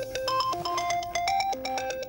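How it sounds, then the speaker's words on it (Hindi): A mobile phone plays a bright, repeating melodic ringtone, loud and continuous, with a quick rhythmic pattern of notes. "तेरा फोन बज रहा है।"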